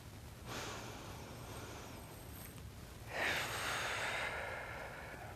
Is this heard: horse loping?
no